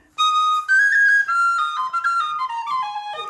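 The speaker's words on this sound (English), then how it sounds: "Now, Mary, can you play us a tune on the tin whistle, please?" Mary Bergin plays a tin whistle tune in Ireland, a bright, continuous run of notes with quick ornaments and shifting pitches, close and alone without any talk.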